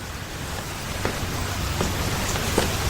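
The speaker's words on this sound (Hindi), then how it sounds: "फिर से बारिश शुरू हो गई।" Steady rain falls in a dense, even hiss, with a few sharper drops striking a surface nearby, and no voices.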